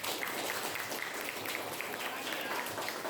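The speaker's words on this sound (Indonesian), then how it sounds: "Tepuk tangan untuk semuanya." Schoolchildren in an elementary class clap together, a dense continuous patter of small hands filling the room, with some voices mixed in.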